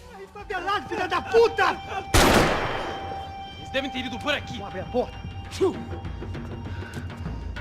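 Gunfire in the video game Max Payne 3 bursts out in a sharp loud blast amid lively talk, with voices continuing over a lingering ringing tone afterward.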